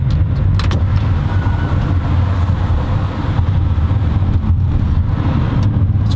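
A Volvo XC40 T3 AWD compact SUV accelerates in dynamic mode, its engine giving a steady, close, low hum with road and tyre rumble and no talking.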